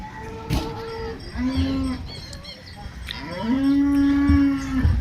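Two long, low moos from an HF cow at a cattle market, the second louder and drawn out, with faint farmyard noise and a few clicks around them.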